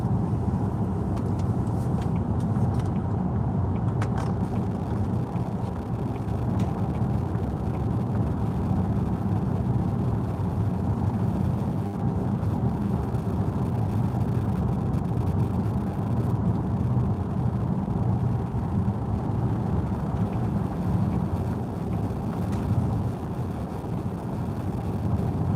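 A Kia EV5 Long Range FWD electric car accelerates. A steady, dense rumble of road and wind noise runs at an even level throughout, with no speech.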